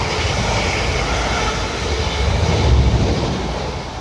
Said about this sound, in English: This is the South Western service bound for London Waterloo.